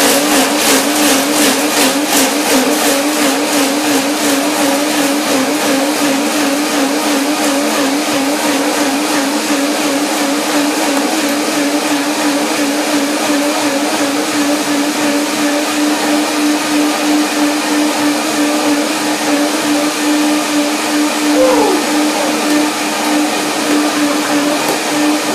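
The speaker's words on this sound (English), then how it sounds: "And it corresponds to the sound of the blender." A blender whirs continuously through almonds and water for a chili lime almond dressing, a loud, steady, harsh motor roar that holds for the full stretch, with a brief change in pitch near the end.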